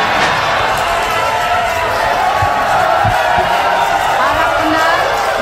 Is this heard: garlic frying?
no